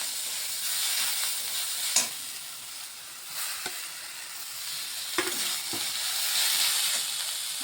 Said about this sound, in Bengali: ভালোভাবে একটু মিশিয়ে নিচ্ছি, আর একটু আলুটাকে একটু ভেজে নিচ্ছি